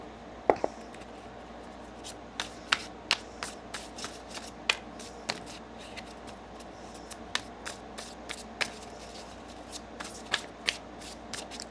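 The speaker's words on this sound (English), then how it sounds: "Let's get one more shuffle." Rapid crisp flicks and riffles of a deck of tarot cards being shuffled, a steady stream of papery snaps close up, with no talking.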